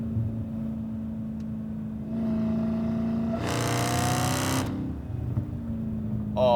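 Supercharged 707 hp Dodge Hellcat V8 drones steadily at close range, swelling into a loud, harsh burst of revving for about a second before settling back to a throbbing idle-like rumble.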